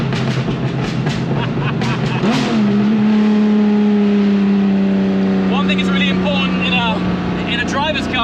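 A straight-piped Ferrari F50 V12 drones loud and close, holding a steady low note, then climbs in rising rev sweeps toward the end while a voice talks over it.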